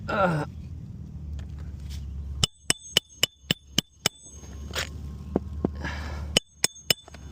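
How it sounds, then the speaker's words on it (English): Roughly a dozen sharp hammer blows drive a nail into a damaged fiberglass-mat roof shingle, coming in quick regular bursts close by with a pause between runs. "One more nail to install here."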